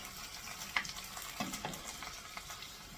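Food frying in a pan until crispy, a soft steady sizzle with a few light clicks and stirring knocks, close but quiet and without any talk.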